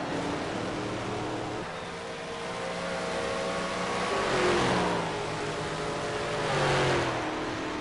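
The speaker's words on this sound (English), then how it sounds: "So just wait for the cars to make their way back into the pits" Cars in Project CARS at Sonoma Raceway roll back to the pits, a steady engine drone with two swelling passes as cars go by fairly close, over a constant background hum.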